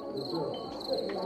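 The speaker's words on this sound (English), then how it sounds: "Why they play the cricket sound?" A cricket chirp sound effect plays as a steady, high, pulsing trill throughout, with people talking and murmuring underneath in a crowded room.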